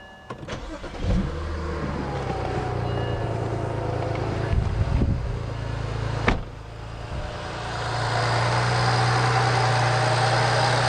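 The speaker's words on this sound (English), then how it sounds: "Now we're going to start the car and listen to how it sounds." A BMW 335i E90 engine turns over on a cold start and fires up, running with a rough rattling idle before settling into a steady, louder hum nearby.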